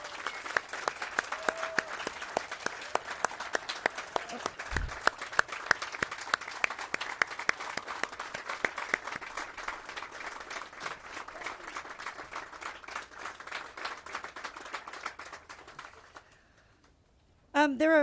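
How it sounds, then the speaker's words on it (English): Crowd applauding at an outdoor ribbon cutting ceremony for a public safety center, steady dense clapping for about sixteen seconds before fading out, with scattered voices mixed in. "please give them a huge round of applause"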